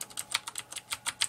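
Keys on a Filco Majestouch 2 TenKeyLess mechanical keyboard pressed in a quick, irregular sequence of about a dozen crisp, close clicks, with no other sound.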